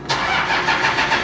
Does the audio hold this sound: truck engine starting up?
yes